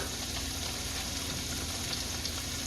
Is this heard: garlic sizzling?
yes